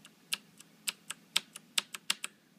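Typing on a Das Keyboard Ultimate S mechanical keyboard: about a dozen crisp, irregularly spaced key clicks, close and quiet, with no talking.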